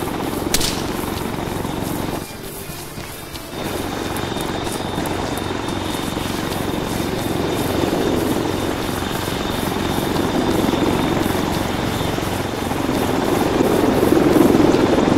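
A helicopter in the military video game ArmA 3 roars with a loud, steady rotor and engine drone that holds throughout, briefly dipping before swelling again toward the end.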